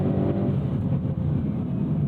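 The engine of a 2022 Hyundai Veloster N with a DCT gearbox drones steadily under load as the car accelerates through low-speed corners, a dense, continuous, close mechanical roar with no talking.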